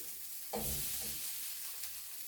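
Potatoes dropped into a hot pan for Lyonnaise potatoes, giving a sudden sizzle that settles into a steady, fairly quiet frying hiss, with a brief stir or scrape.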